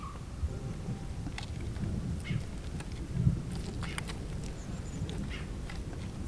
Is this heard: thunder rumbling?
yes